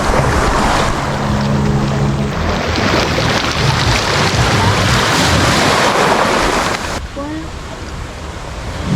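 Waves washing over a pebbly beach in Batangas, a loud, continuous rush and hiss of surf with rattling stones and wind buffeting the microphone, easing off near the end.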